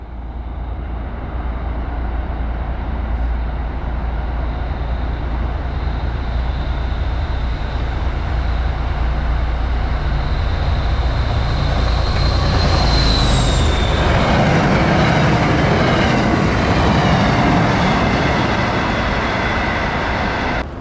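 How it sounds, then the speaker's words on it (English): A train rolls past through fog with a steady, loud rumble of wheels and cars that swells toward the end, joined briefly by a high squeal, with no one talking. "Here comes a train cutting that fog."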